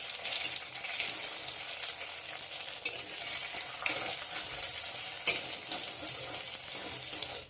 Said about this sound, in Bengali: গরম তেলের মধ্যে একটা ডিম দিয়ে দেব। ডিমটাকে ভুজিয়া করে নেব।